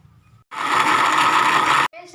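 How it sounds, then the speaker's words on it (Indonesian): An electric blender whirs loudly as it blends papaya with about 200 ml of water into a smooth mixture, a single steady burst that starts abruptly and cuts off about a second and a half later. "Kemudian akan kita blender hingga halus."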